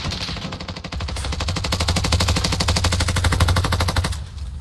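M60 machine gun in Call of Duty Modern Warfare firing one long sustained automatic burst of about four seconds, rapid even shots loud and close, stopping abruptly, with no voices.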